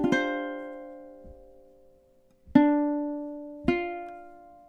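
Ukulele plays the opening measure of a song with its pickup, a few plucked notes and chords spaced out in slow time, each ringing and decaying cleanly with no voice over it.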